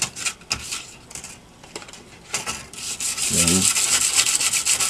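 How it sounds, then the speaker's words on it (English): Scratchy back-and-forth rubbing of 60-grit sandpaper cleaning a part of a CO2 kit, intermittent at first and then a steady, louder stretch of sanding; a brief word is spoken near the start. "And cleaning, as I showed, is with sandpaper,"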